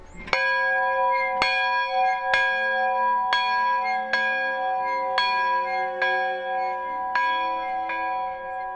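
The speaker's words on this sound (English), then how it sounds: "I heard you ringing the bell, right?" A one-room schoolhouse bell tolls steadily, about nine evenly spaced strikes each ringing out with a long resonant decay, clear and alone.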